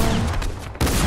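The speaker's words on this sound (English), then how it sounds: "Drum gun." A drum gun in Fortnite fires a dense, rapid burst that blurs into a continuous loud rattle. The burst dips briefly and then resumes at full force, close and without voices.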